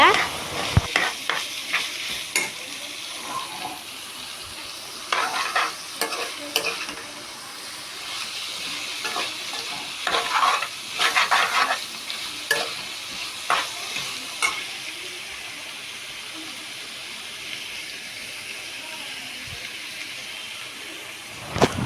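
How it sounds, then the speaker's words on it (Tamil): Ingredients sauté in a hot pan, with a steady sizzle under frequent scraping stirs that come in bursts and then ease off toward the end, close up and with no talking. "இந்த மாதிரி நல்லா வதக்கி எடுத்துக்கோங்க."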